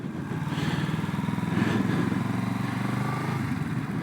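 A Kawasaki Z650RS motorcycle engine pulling away on a hill start, a close, steady throbbing drone with a slight rise in the middle, heard alone without talk.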